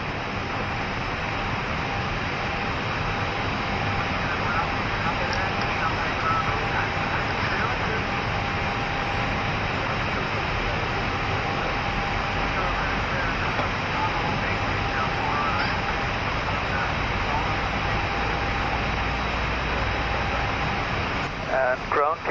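Number 1 engine of an airliner spooling up during start, heard from inside the cockpit at Mumbai as a steady, loud broadband roar and whine that holds throughout, with crew voices talking over it.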